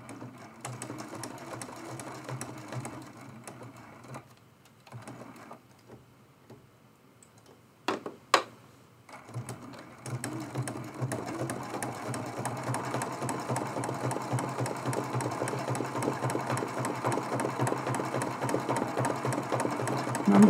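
Sewing machine running a stitch to sew down a fused appliqué turkey mug rug, a steady mechanical whir with fast ticking that pauses midway, a few sharp clicks in the gap, then resumes and runs continuously to the end.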